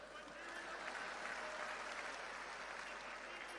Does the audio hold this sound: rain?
no